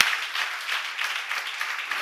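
Applause from an audience at a church seminar, a steady wash of many hands clapping without a break, moderately loud and fairly close.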